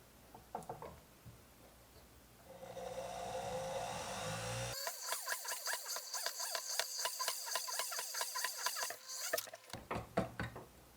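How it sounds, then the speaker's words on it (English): A very small drill bit bores tiny holes in a workpiece before jeweler's saw cutting, a faint whirring tool heard in short bursts with rapid scratchy, ticking grinding during each pass. "And now I just need to go through every one of these holes and drill them out."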